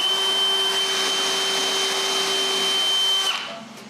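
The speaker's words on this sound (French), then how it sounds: "je change de mèche et je perce un trou pilote pour la vis du haut" A power drill drives a pilot hole into wood for a screw, giving a steady, loud, high whine that runs for about three seconds and then winds down.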